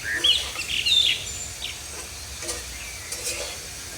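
Potatoes fry in oil in a pan for a Bengali pabda fish curry, giving a steady soft sizzle with faint higher crackles throughout.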